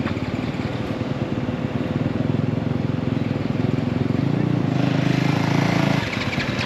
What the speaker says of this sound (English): Oh, that's sound check there for Hampshire's bike.